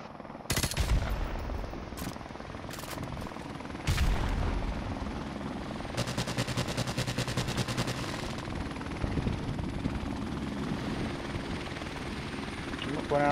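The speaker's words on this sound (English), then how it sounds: "Enemy helicopter inbound!" Helicopter in Call of Duty Modern Warfare Remastered multiplayer, a steady rotor drone running throughout amid bursts of machine-gun fire and explosions, with players talking over the battle.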